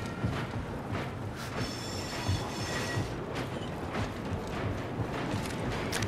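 A long moving train in the video game Medal of Honor: Above and Beyond, with a continuous rumbling rattle of cars and intermittent metallic squeals and clanks over steady rolling noise, no voices.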